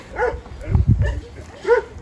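A Kangal shepherd dog, a flock-guarding breed, gives two or three short barks spaced across a couple of seconds, fairly close, with a deeper rumbling burst in between.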